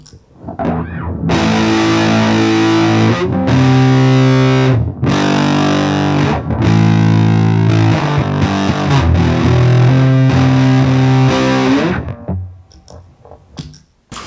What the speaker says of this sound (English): when you turn this thing on, you get the sound of distorted transistors on your signal, which adds this warmth and loveliness and disgustingness.